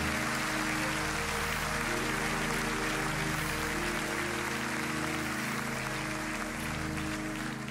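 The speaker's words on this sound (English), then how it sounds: "let's give the Lord a hand clap" A congregation at a prayer conference claps for the Lord, a steady, loud wash of clapping that runs throughout over sustained music.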